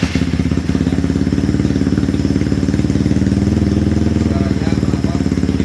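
A bored-up Honda CRF 300 dual-injector motorcycle engine, not yet tuned, runs at a steady, loud idle with a rapid, even low thrum and faint mechanical clatter, close by and alone.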